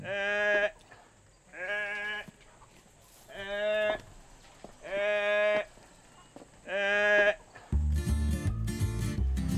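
Goats bleat five times in a slow, regular series, loud wavering cries with short gaps, followed by a burst of music at the end.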